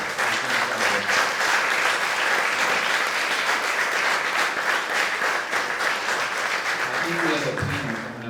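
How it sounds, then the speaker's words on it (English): Sustained audience applause fills the room after a talk at a Bitcoin conference in Riga, steady and dense throughout, with a murmur of voices near the end. "This is the talk with the most applause."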